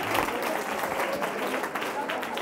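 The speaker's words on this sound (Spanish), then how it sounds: "Vale, un aplauso, un aplauso." Audience applause at a talk for teachers on emotional skills and wellbeing, a dense steady patter of clapping from a room full of people, with voices mixed in across the brief burst.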